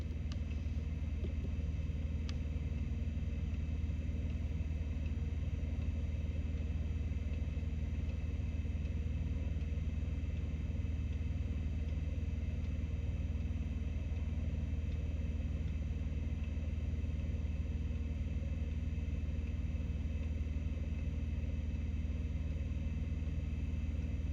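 A CAT 988 wheel loader idles with a steady, deep, low engine rumble while pulling a trailer back, the drone continuous and close, broken only by a faint brief click early on. No one speaks.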